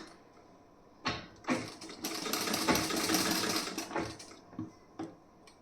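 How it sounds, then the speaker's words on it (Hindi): A sewing machine stitching a piece of blouse fabric, its fast whirring run starting in short bursts, then holding a sustained close stitching stretch before stopping with a few brief taps. "तो यहाँ पे मैं यहाँ सिलाई लगा दे रही हूँ ऐसे।"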